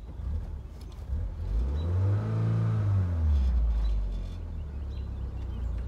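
A 1991 Toyota MR2 Turbo engine accelerates while driving, revving up in a loud, close rising sweep that peaks and then falls back to a steady, rumbling drone.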